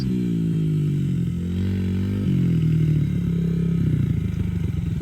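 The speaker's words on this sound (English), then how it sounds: "You still in first gear. I can hear it." A Yamaha TTR dirt bike engine runs in first gear, a close, loud buzzing drone whose pitch rises and dips as the rider revs, with a brief surge partway through.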